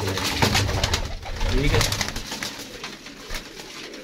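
Pigeons coo in low, throaty bursts at close range, with the coos rising and falling over a few seconds while someone speaks briefly in between.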